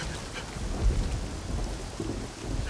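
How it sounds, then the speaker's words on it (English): A heavy storm in a King Lear film scene: steady, dense rain hissing throughout, with a deep rolling thunder rumble underneath, all close and continuous with no talking. "What is the cause of thunder?"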